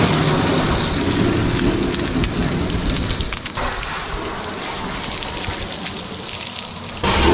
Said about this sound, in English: Maybe we give it a quick rinse, get some of the dust out of this thing.